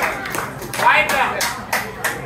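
Scattered hands clap in short bursts among a small crowd at a gi Brazilian jiu-jitsu inter-club match in Kaohsiung, with someone speaking loudly over the claps.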